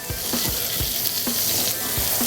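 Loud, close sizzling of butter and herbs frying in a pan, a continuous crackling hiss with light periodic clinks from the pan.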